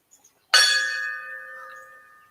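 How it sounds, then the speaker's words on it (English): A single ceremonial bell struck once at a memorial roll call, a clear ringing tone with bright overtones that rings on and slowly decays in a quiet hall. "Will the guests please rise for the tolling of the bell?"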